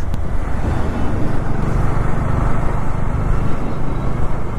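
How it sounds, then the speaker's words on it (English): Busy road traffic in Pune makes a loud, close, continuous rumble of passing engines and tyres, steady throughout with no clear speech. "Check out the traffic."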